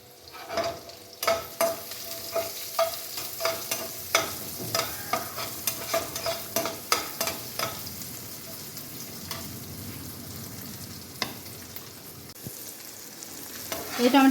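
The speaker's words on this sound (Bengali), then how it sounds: "হলুদ লঙ্ক দিয়ে দিয়েছি কাঁচা লঙ্কাটা এবার দিয়ে দেবার মধ্যে ভালো করে নাড়াচাড়া করবো" Green chilies and turmeric fry in a pan while a utensil stirs them, giving a soft steady sizzle with regular scraping strokes up close, and the stirring eases off toward the end.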